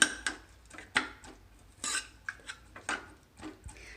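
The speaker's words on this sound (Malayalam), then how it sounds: "നമുക്ക് ഈ തവിയിട്ട് ഒന്ന് ഉടയ്ക്കാം" Cooked dal being mashed with a ladle inside a pressure cooker, irregular metallic knocks and scrapes of the ladle against the pot, close and fairly quiet, with no talking.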